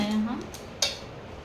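Maida snack mixture for maida khajoor being stirred in a bowl, a faint hum giving way to soft scraping and one sharp utensil clink against the bowl near the middle.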